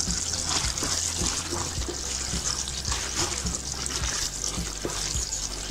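Water boils vigorously in a pot of vegetable biryani with a continuous bubbling hiss and rhythmic low gurgling pulses, close and steady throughout.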